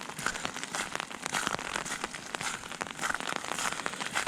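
Rain falls outdoors in icy winter weather near a lake in Tampere, making a dense, close patter of drops hitting surfaces, steady and alone, with brief crackly splashes throughout.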